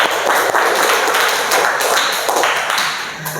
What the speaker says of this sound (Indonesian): Tepuk tangan sekali lagi buat semua yang sudah presentasi.